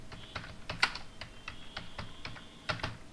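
Someone types steadily on a computer keyboard while writing an HTML heading during a web design lesson. The keys click close and crisp in short, evenly spaced bursts, with no talking.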